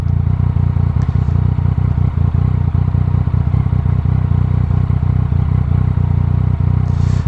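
A Yamaha MT-09 motorcycle engine runs steadily and continuously at close range, a dense mechanical whir with light clatter, no voices present.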